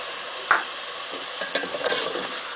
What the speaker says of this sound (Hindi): तो इस टाइम हम ये 1 कटोरी दही की ऐड कर देते हैं।